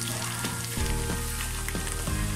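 Garlic paste frying with onions in a hot pan for a shol fish curry, a dense continuous sizzle with a few stirring scrapes, close and alone.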